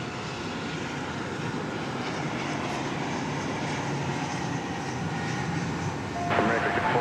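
A CRJ 701ER American Eagle regional jet at DFW Airport gives a steady, continuous roar of engine noise that swells slightly louder near the end, with a faint voice under it.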